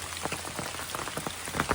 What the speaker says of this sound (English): but it's still raining pretty hard